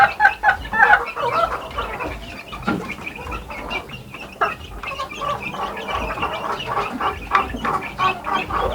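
Mother hens cluck and chatter continuously at close range, several birds overlapping in a busy backyard coop, with no talk.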